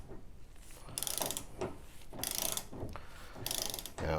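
A torque wrench tightens the rear shock nut on a Porsche 914, repeated close ratcheting clicks in four bursts of quick pawl clatter separated by short pauses.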